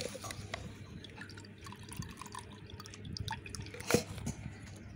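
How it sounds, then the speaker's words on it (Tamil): Spiced buttermilk with ginger and curry leaves is poured through a strainer, giving a soft, steady trickle and a few drips that peak briefly near the end, quiet and close with no talk. "இப்போ நம்ம வந்து வடிச்சிக்கலாம், அரைச்சிட்டோம் வடிச்சிக்கலாம்."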